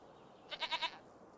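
A goat in Farming Simulator 25 gives a single short bleat, a quick wavering run of four pulses, fairly close and clear over a quiet background.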